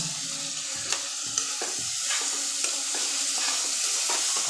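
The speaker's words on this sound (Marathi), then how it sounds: "आता ते व्यवस्थित ढवळून पूर्ण एकजीव केले जाईल." Potatoes and dried Bombay duck sizzle and fry steadily in a hot wok while a spatula stirs them, scraping and clinking against the metal at irregular intervals, close and continuous.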